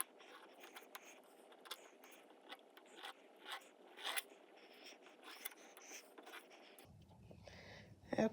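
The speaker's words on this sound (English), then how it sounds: "Then I take my pointer tool and I cut along the edge of the stencil to cut out" A pointer tool cuts clay along the edge of a stencil while an animal figure is being made, giving faint, close scraping and dragging strokes over low background hiss.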